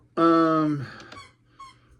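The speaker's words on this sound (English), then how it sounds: "Oh, are we playing with a squeaky toy?" A dog plays with a squeaky toy nearby, giving a loud, long squeak followed by a couple of shorter, fainter squeaks with quiet pauses between.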